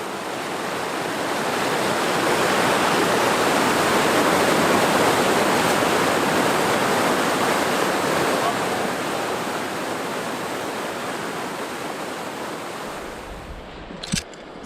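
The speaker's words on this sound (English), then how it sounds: "Sounds like some rapids, probably not runnable with the low water" Shallow river rapids at low water rush as a loud, continuous broadband roar in a wilderness setting. The sound holds steady throughout, and a brief knock comes near the end.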